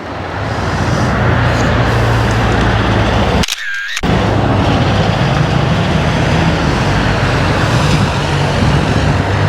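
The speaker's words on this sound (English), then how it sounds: "that look at the little car here" A small car goes by on a road in Wicklow, its steady engine and tyre noise loud and close for almost the whole stretch, with one short break in the middle and no talking.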